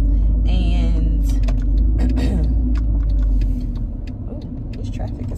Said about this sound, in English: ooh, this traffic is crazy.